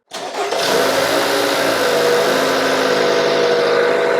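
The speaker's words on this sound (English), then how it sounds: "So I'm going to have a helper start the engine. Go ahead and start the engine." An engine turns over briefly and then catches, settling into a loud, steady running roar that continues to the end.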